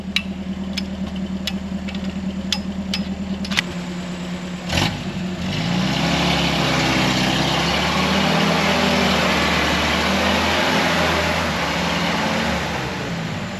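A Willys Jeep engine idles with a few sharp clicks, then revs up and holds a strained, loud drone while backing out of a mud hole.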